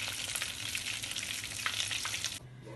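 Pig trotter lollipops sizzle and crackle steadily in oil in a frying pan, a loud continuous hiss that drops away abruptly near the end as they are lifted out.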